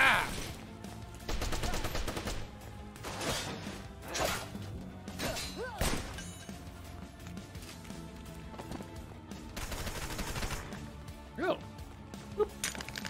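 Gunfire from shooting enemies in the action game Wanted: Dead, repeated bursts of shots amid running footsteps and crashes, with a voice talking over the action.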